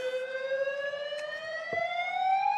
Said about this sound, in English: There's the siren in the background.